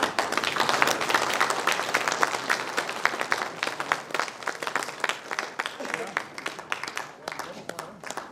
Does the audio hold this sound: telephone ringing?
no